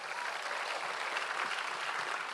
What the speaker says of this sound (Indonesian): Tepuk tangan untuk Surabaya.